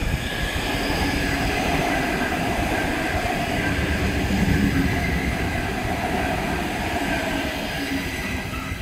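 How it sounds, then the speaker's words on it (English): A Tangara electric train passes through platform 3 at Banksia station in Sydney, a loud steady rumble of wheels and motors with faint squeals, close by and without speech. "And a Tangara passing through platform 3."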